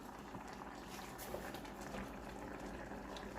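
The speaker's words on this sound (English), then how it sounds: "once this comes to a boil, we'll turn the heat down to a simmer" Meatloaf sauce with thyme and bay leaf bubbling in a pot on the stove, a faint, dense, steady burble of small bursting bubbles, close and continuous without talk.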